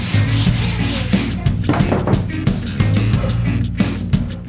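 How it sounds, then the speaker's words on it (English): Loud, close sandpaper rubbing over a curved wooden edge in quick uneven strokes, with a dense rasping texture and occasional bumps. "I used sandpaper to try to smooth the curve."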